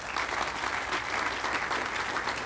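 Sustained audience applause at a town center groundbreaking ceremony, a dense steady wash of many hands clapping at even loudness for the whole stretch, with no voices on top.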